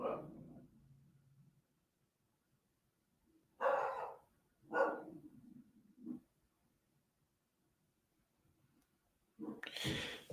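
A 7-month-old puppy barks a few times in separate short bursts, close by, with near-silence between them and a louder burst at the end.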